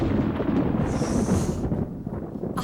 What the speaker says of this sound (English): just as I leave the ER, a major thunderstorm erupts